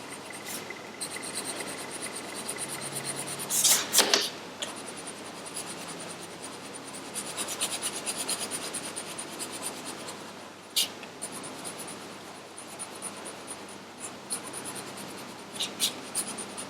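Pencil colouring on paper in an Outlander colouring book: a soft, steady scratchy rubbing of graphite strokes close by, with a few sharper scrapes and pauses, no talking.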